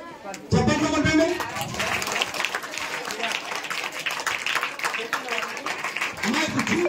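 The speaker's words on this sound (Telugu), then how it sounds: "గట్టిగా చప్పట్లు కొట్టండి." Audience at a public felicitation event for an MLA breaking into applause, a dense burst of clapping that starts sharply and continues with crowd noise, mixed with talking and a voice over the top.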